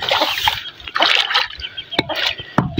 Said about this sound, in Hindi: अभी हमने पानी डाल दी है